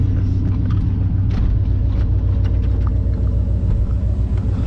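Deep rumbling exhaust of a 1993 GMC Sierra OBS truck fitted with headers and a catalytic converter delete, a loud, steady low-pitched drone with faint burbles throughout, heard up close and alone.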